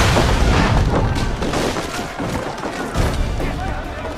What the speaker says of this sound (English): it also gave us an opportunity to include some historical exploding barrels.